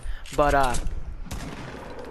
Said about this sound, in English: I already hear gunfire.